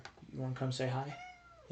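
A pet cat meows plaintively indoors, hungry for wet food, its drawn-out cries overlapping and mixing with a voice talking to it close by.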